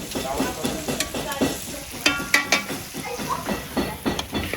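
Onions sizzle in a pan while a utensil stirs and scrapes them, cooking for a Réunion rougail dish; there are continuous frying crackle and irregular clinks and scrapes up close.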